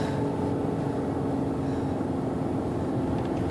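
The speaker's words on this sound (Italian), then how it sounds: "Motore al massimo." Small Fiat 500 engine straining at full throttle up a steep hill in Vico Equense, a steady droning hum with harmonic whine holding constant throughout, close and fairly loud with no voices.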